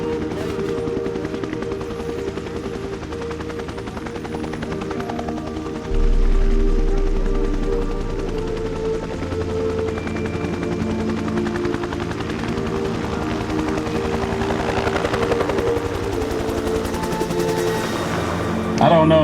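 Helicopter rotor blades whop in a steady, continuous beating drone that grows louder partway through and stays dense and rumbling.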